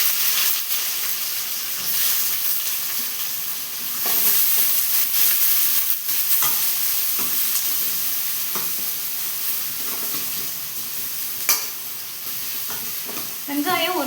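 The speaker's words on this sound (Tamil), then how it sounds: "பூண்டு பொரியட்டுன்னு சொல்லிட்டு இப்போ வெங்காயத்தை சேர்த்துக்கலாம்." Onions and crushed garlic fry in hot oil for a fish curry, giving a steady close sizzle with intermittent stirring scrapes throughout.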